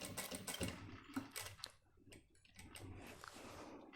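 A sewing machine stitches a shirt sleeve and cuff in quiet, uneven bursts of rapid mechanical clatter, close by and with no talking.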